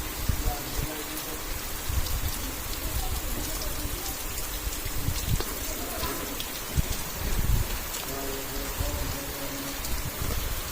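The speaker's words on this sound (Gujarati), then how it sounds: "દોસ્તો અત્યારે વરસાદ ધીમો ધીમો ચાલુ થઈ ગયો છે" Light rain begins falling in a village, a steady, even patter of drops on surfaces that continues throughout at a soft, moderate level.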